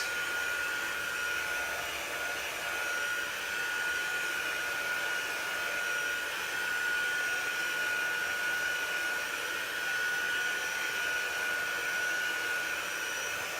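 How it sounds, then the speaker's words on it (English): A heat gun drying a chalk transfer on a silk screen: a steady, loud blowing whir with a constant high whine that holds unchanged throughout, no talk. "I kind of have my heat gun tilted at a little angle so it's not touching it."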